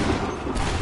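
Musket volley fired on command in Assassin's Creed 3, a dense broadband burst of gunfire sustained across a short moment, loud and close with no talk over it.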